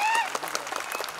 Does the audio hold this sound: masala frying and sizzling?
no